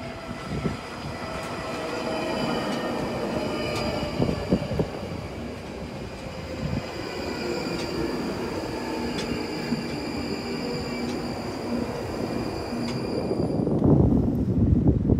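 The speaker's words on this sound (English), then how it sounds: "Taking the Northern Line to Tottenham Court Road." A London Underground Northern Line train rumbles steadily throughout, with a continuous low roar, high whining tones and brief wheel screeches, growing louder and rougher near the end as it speeds along.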